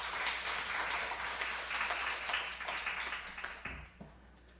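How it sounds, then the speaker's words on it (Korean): A church congregation applauding during an anniversary worship service, a soft, distant patter of many hands that thins out and fades toward the end. "동의하신다면 큰 박수 부탁드리겠습니다"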